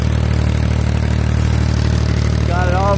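An Allis Chalmers 5050 tractor engine runs steadily, loud and close, with a constant droning throb; it had been fixed after sucking air through the fuel filter. A voice speaks briefly near the end.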